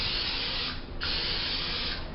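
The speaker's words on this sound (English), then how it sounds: "taking Pam or another cooking spray. Shake it up first, take the cap off, and distribute a light layer of this on the iron" Pam cooking spray hisses onto a krumkake iron in two close, steady bursts separated by a short pause, soft and near with no talk.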